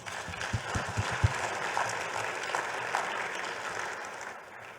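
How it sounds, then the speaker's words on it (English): An audience at a keynote talk claps steadily, a dense patter of many hands with a few sharp, close claps standing out near the start, continuing for several seconds before easing off. "So clap for yourselves."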